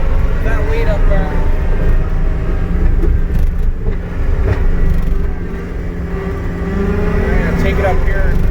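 John Deere 331G compact track loader driving, its diesel engine droning steadily up close with track rumble and mechanical clatter, while someone talks over it.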